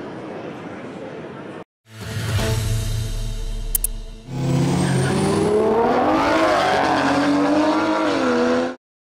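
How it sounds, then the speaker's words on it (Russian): Drag racing cars at a Dagestan championship near Makhachkala, engines roaring loud and close in separate bursts with rising revs and a passing car, under a voice speaking. "Визгшин и рев моторов – это чемпионат Дагестана по дрэг-рейсингу или легальные гонки в пригороде Махачкалы."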